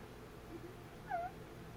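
Pet cat gives a single short, faint meow indoors over a low steady room hum.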